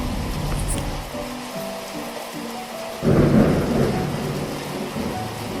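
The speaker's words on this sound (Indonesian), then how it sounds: "Hujannya masih deras tahu." Heavy rain pours steadily while a low rumble of thunder swells about midway, fairly loud and close, with no talk over it.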